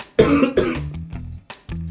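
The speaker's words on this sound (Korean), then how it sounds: "계속 마른 기침이 좀 많이 나왔습니다" Dry, hacking coughs from a person with an Omicron infection, several sharp bursts in quick succession, close and clear with no talking.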